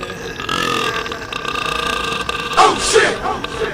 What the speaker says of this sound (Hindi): जोर से मारो डकार